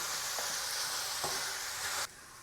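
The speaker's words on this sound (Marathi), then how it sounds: "साधारणतः 1 मिनिट आपण आता हा कांदा छान मऊ असा भाजून घेऊया।" Onion frying in a pan over medium gas, a steady close sizzle with a couple of soft stirring scrapes, the sizzle dropping off sharply near the end.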